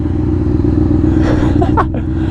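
A motorcycle engine held high on the throttle gives a loud, close, steady droning roar that barely wavers, with a short clatter and rustle near the end as the noise eases.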